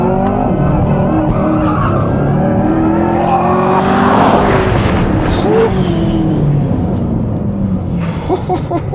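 A Corvette race car corners hard on a track, its loud engine roaring and shifting pitch as tires squeal and skid, close and continuous for the whole stretch, with no talking.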